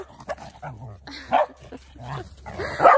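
Several dogs barking, yipping and growling in a scuffle, close and loud, with short bursts and whines.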